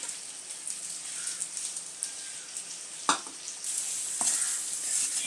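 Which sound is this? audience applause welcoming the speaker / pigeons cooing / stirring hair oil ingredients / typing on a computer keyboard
stirring hair oil ingredients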